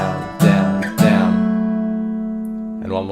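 Acoustic guitar strums on a D6 shape from a song, with two sharp strums followed by a long, close ringing chord and a quiet scrape at the end.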